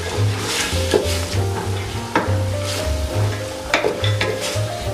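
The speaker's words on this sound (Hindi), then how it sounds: "अच्छे तरीके से इसे मसाले के साथ 1 मिनट कुक कर लेते हैं।" Matar pulao fries over high heat with spices and is stirred, producing a close, steady sizzle broken by rhythmic scraping strokes of a spoon against the pot, with no talking.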